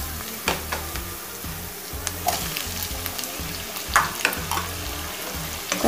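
Tomatoes sautéing with softened onions in a pan for egg kurma, a steady close sizzle broken by several sharp scraping stirs of a spatula.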